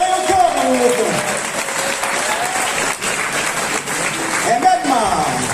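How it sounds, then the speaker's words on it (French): Audience applause fills a martial arts demonstration hall in Montbeton, steady and fairly loud across the whole stretch, with a voice talking over the clapping. "sous les applaudissements encore"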